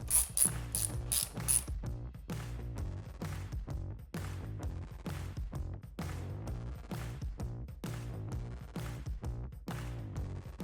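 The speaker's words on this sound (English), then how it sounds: "I'll remove these 2 breather bolts, and they're a T45." Ratchet wrench backing out T45 breather bolts on a Harley intake, producing close, dense bursts of quick clicking that repeat steadily throughout.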